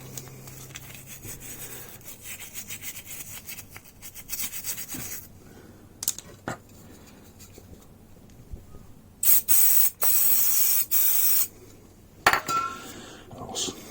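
Short hissing bursts of carb cleaner sprayed from an aerosol can onto the front brake calipers of a Yamaha Fazer 600 motorcycle, with scrubbing, rubbing and metallic clinks of brushing and handling between the sprays.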